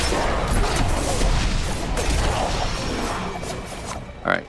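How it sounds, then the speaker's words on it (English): Dense, continuous bursts of explosions and impact crashes from a Rogue build in Diablo 4, a steady loud barrage of layered blasts with whooshing effects, ending in a brief sharper burst. "The explosions feel good."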